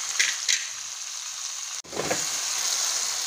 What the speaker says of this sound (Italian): Adesso facciamo cuocere i nostri bei porcini.